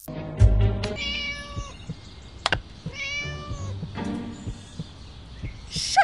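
Repeated meows from a cat in the horror game Scary Teacher 3D, several drawn-out, tonal cries spaced across the stretch, fairly close and clear over a faint game background with no talking.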